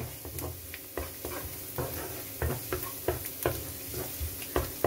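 Garlic sautéing in a hot pan for a stir-fry of scallops with celery, black fungus and chili gives a steady close sizzle, broken by repeated rhythmic scrapes of a spatula stirring it, with no talking.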